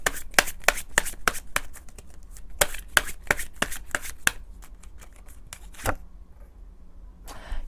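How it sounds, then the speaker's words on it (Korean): Tarot cards are shuffled in rapid, crisp bursts of riffling and tapping at close range, loud and rhythmic before pausing briefly and resuming, with no speech over them. "힐링 메시지의 카드를 뽑아보도록 하겠습니다."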